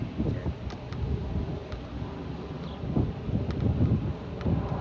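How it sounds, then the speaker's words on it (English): Wind blowing outdoors, a steady low rumbling buffet across the microphone with faint rustling, continuous and fairly loud throughout. "Let the wind blow all over you"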